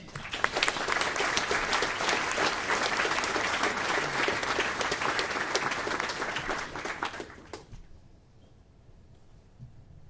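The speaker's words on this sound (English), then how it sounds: "Let's give one last round of applause for our award winners." A dense round of audience applause for award winners at an Air Force base commander's call, steady and loud for about seven seconds before stopping abruptly into near silence.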